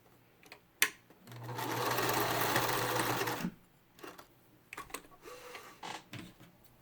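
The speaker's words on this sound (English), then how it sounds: "do is straight stitch over top of it a few times" A sewing machine makes a straight stitch back and forth across the corner of a fabric face mask in one close burst of about two and a half seconds, surrounded by light clicks and handling noises.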